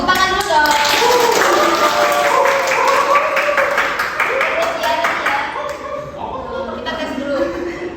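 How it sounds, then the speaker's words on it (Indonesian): A group of students claps together in a classroom: a dense, steady burst of hand clapping running throughout, with voices talking over it. "Tepuk tangan dulu dong."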